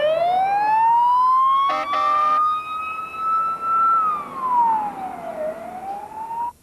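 A loud ambulance siren wails up and down in slow sweeps close by, briefly joined by a harsh buzzing horn blast, with traffic noise underneath.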